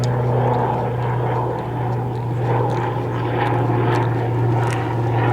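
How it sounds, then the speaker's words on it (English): A large helicopter passes overhead by a roadside, its steady, loud rotor and engine drone running unbroken throughout with a strong low hum and no talking. "There's a big chopper up there."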